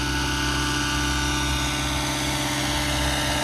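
A Roban 600 Airwolf scale RC helicopter in flight gives a constant loud whine and hum of its engine and rotors, steady and close throughout, with no talk.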